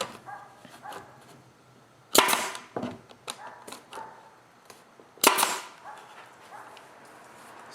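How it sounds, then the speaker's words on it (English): A staple gun fires sharp, loud snaps into a wooden quilt box for beekeeping, two distinct shots a few seconds apart amid softer handling clatter and taps. "Stapling."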